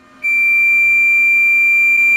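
A continuous high-pitched electronic beep from a handheld clamp multimeter's over-voltage warning, triggered above 600 volts DC, starts abruptly and holds steady without a break, loud and close.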